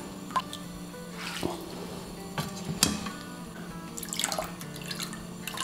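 Drained potatoes slipping into a pan of water with soft splashes and clinks against the metal, a few scattered quiet plops and small knocks close by.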